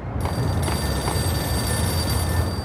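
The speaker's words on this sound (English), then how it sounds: "Another phone. There are phones everywhere." A telephone rings in the Max Payne video game, a bright bell-like ring sustained over low background game ambience, heard alone without speech.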